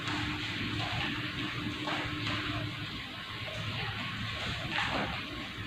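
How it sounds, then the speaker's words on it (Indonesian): Running tap water splashing steadily as hands are washed at a sink during a bedside nursing procedure, a continuous close wash of water with small surges and no talk. "Saya cuci tangan terlebih dahulu ya Pak."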